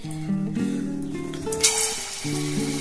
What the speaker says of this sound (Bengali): তো তেল গরম হয়ে গেছে, এবারে আমি ফুলুরিগুলোকে করে নিই।